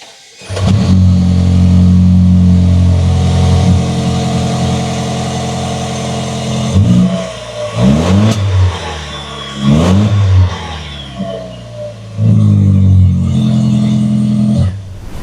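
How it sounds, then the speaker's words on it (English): Loud 2026 Toyota Land Cruiser LC250 idling with a deep Toyota TRD performance exhaust rumble, then several sharp revs rising and falling, followed by a sustained high rev. "we replaced the exhaust with the Toyota genuine TRD performance exhaust for the LC250"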